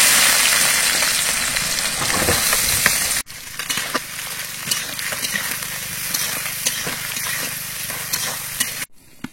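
Onions frying in oil with whole dried chillies, cumin and garlic, cooked outdoors in a mango orchard, make a loud, continuous close sizzle with stirring scrapes, then a brief cut and a steadier, softer hiss.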